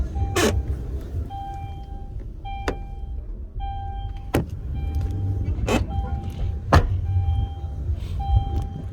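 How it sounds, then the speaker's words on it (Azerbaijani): A steady electric sunroof motor whine runs in repeated stretches, starting and stopping several times, broken by sharp clicks inside a quiet parked car. "Maşında lük da var, işləv vəziyyətdədir."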